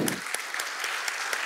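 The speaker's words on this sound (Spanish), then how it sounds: "a quien pido un aplauso" Brief applause in a legislative chamber during a state report session, a dense patter of many hands with a few sharper claps standing out, steady and fairly loud for the short stretch.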